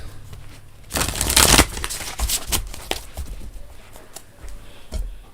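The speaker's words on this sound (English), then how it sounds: "these needed a really good shuffle for you, Ola" Tarot cards shuffled in a loud burst followed by several softer riffles and taps, close and alone without speech.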